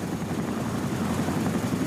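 A helicopter carries a giant national flag past the Presidential Office, heard as a steady low rotor drone with a broad hum that holds at an even level for the whole stretch, with no voices over it.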